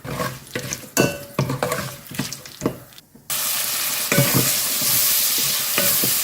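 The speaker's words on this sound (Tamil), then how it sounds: "ஒரு ஒன்றரை ஸ்பூன் எண்ணெய் ஊற்றிட்டேன் இது கூட கொஞ்சம் சோம்பு போட்டுக்கிறேன் பட்டை ஒரு துண்டு பிரிஞ்சி இலை ஒரு பீஸு" Whole spices, fennel seeds, a cinnamon stick, a bay leaf and cloves, are dropped into hot oil for chicken biryani and stirred with clattering spoon hits. Then a loud, continuous sizzle of frying takes over, close and without speech.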